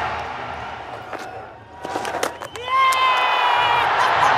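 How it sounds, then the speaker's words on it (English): A cricket crowd erupts in cheers after a catch in an England v India T20 match, a loud surge of roaring and whistling that swells and holds, with a commentator's voice briefly over the noise. "The crowd behind Kohli go up and the England captain disappears."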